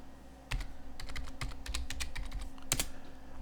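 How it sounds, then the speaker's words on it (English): Someone types a name on a computer keyboard for a Debian 13 server login, a short burst of close, crisp key taps in an uneven rhythm over a quiet background hum. "you just type in your name"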